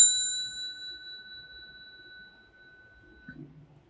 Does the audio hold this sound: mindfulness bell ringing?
yes